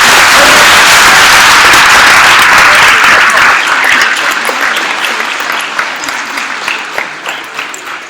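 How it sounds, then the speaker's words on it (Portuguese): A church congregation applauds loudly, a dense wash of clapping that starts at full strength and slowly thins and fades over about eight seconds. "Se você concorda, aplaude bem forte."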